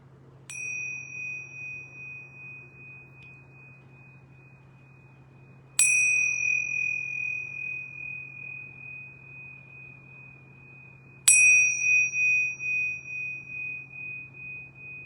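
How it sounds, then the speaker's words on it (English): Three clear yoga bell strikes spaced several seconds apart, each a bright ringing tone that lingers and slowly fades over a low steady hum. "I'm going to ring these yoga bells 3 times."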